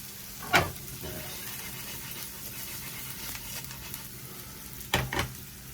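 Risotto rice sizzles gently in oil and butter over low heat aboard a narrowboat, a quiet continuous frying hiss broken by two brief bursts of louder stirring and spattering.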